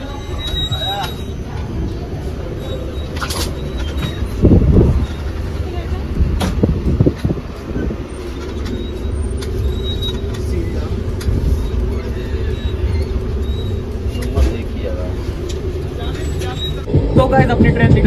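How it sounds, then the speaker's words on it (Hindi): The Unchahar Express pulls out of Prayagraj Junction, heard from inside a B6 coach, as a steady low rumble of rolling wheels and carriage noise with occasional knocks and clatter while someone talks over it. "तो गाइस, अपनी ट्रेन निकल चुकी है प्रयाग जंक्शन से"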